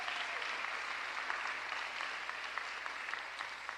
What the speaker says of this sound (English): Give all of our elected officials a round of applause.